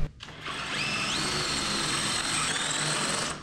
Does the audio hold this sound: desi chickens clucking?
no